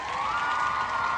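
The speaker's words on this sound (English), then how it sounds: "Give her a nice round of applause, guys." A studio audience at a 1992 children's geography game show cheers and claps for a contestant, a brief dense burst of whooping and applause.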